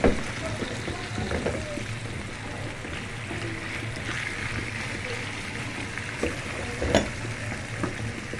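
Washed chicken pieces seasoned with salt, vinegar and lemon sear undisturbed in a pan for baked béchamel pasta, giving a steady, moderate broadband sizzle with a few faint clinks and soft background noise throughout.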